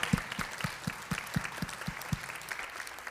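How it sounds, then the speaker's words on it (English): A church congregation at Advent UMC claps in a steady, rhythmic beat, fairly quiet and slightly distant, with a soft crowd murmur underneath. "So round of applause for you guys"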